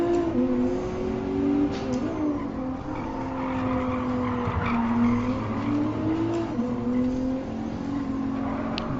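Race car in the Gran Turismo Sport video game braking hard with sustained tire squeal and skidding over a steady engine drone, loud and continuous throughout with no talk.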